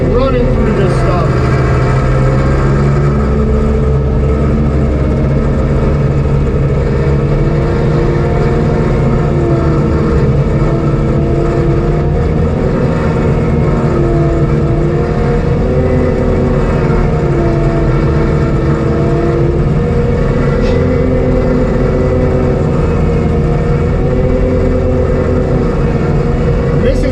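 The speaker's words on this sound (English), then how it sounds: "This mega mower just really excels, in my opinion, is mowing this tall, heavy, thick weeds and grass like this." A Mega Mower X ride-on mower cutting through tall, thick, wet grass and weeds, its engine droning loud and steady with slight shifts in pitch, with a voice talking over it at times.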